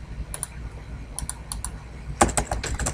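Keys clack on a computer keyboard in short scattered bursts, close and crisp, with a quicker run of taps toward the end.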